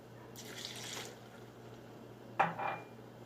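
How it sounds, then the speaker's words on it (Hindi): Two glasses of water pour into a pressure cooker: a soft, faint splash first, then after a pause a sharper, brief splash and trickle, with quiet room noise throughout. "ये वाले 2 गिलास पानी डालेंगे।"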